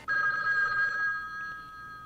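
An old-school telephone bell rings once in a sustained metallic burst that fades as it decays, fairly quiet and with no other sound.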